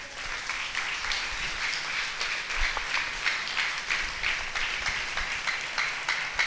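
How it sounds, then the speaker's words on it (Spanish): Church congregation applauding during a service, an even, sustained wash of many hands clapping at moderate distance, with no voices standing out. "Dele un aplauso al Señor"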